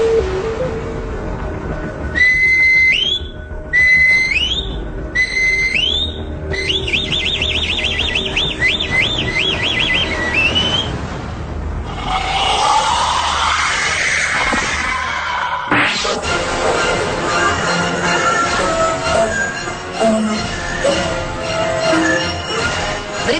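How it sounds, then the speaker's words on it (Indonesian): A centuries-old death whistle blown loudly: a few short piercing shrieks, then a longer warbling wail and a harsh, noisy, scream-like roar, with no voices. "peluit itu digunakan untuk mengabarkan berita kematian, eksekusi mati, atau pengorbanan manusia untuk dewa-dewa."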